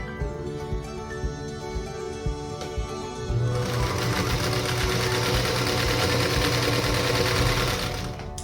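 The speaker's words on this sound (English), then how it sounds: "we'll sew right along that diagonal line on all 4 of those squares." A sewing machine stitching along a marked diagonal line across quilt squares: light handling noises first, then a loud, steady motor whir with rapid needle clatter running continuously to the end, close up.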